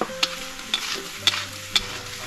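Fish fat sizzles in a dry pan while being stirred, a steady frying crackle broken by four sharp scraping strokes of the utensil, close and fairly loud with no talking.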